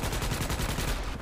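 Gunfire in the Starship Troopers: Extermination video game: a dense, steady stream of rapid automatic shots, loud and close, continuing without a pause across the whole moment.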